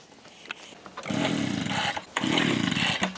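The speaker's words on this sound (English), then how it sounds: "We're blowing off all the leaves and stuff under the car right now." A powered blower clears leaves and debris from under a Nissan 350z drift car with a VQ35 engine, two loud sustained roaring bursts about a second each, close by, separated by a short pause.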